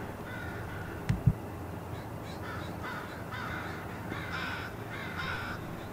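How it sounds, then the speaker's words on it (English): Crows, among them a leucistic crow, cawing outdoors: a couple of short caws up close early on, then fainter calls over steady background noise. "It was here in October 2016 that we discovered another leucistic crow"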